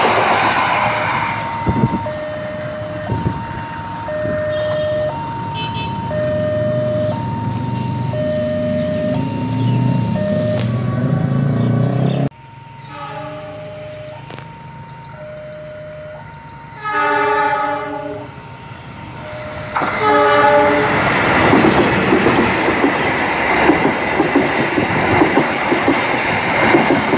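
A passenger train passes a level crossing on Jalan WR. Supratman in Malang, its two-tone horn sounding in repeated long blasts while crossing warning bells ring and wheels clatter loudly over the rails, with no talking.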